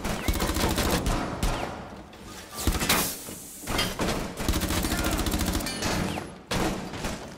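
Rainbow Six Siege gunfire rattles in dense, rapid bursts, loud and nearly continuous, with a couple of brief lulls between volleys of automatic shots.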